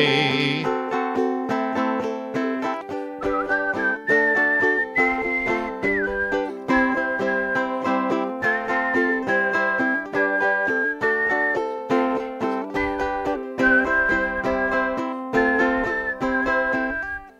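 A person whistles a steady, tuneful melody over strummed ukulele accompaniment, the whistle sitting clearly on top of the music throughout.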